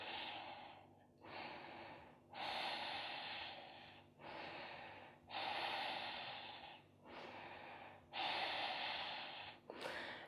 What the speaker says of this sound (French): Respiration Ujjayi.